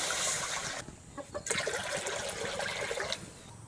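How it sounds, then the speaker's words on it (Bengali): Water splashes and gurgles as it is poured into a cooking pot in a village kitchen, to be heated for making chusi pitha; the pour is close and brief, with short bursts. "জল দিয়ে দিচ্ছি।"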